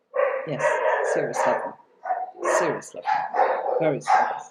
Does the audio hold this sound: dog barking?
yes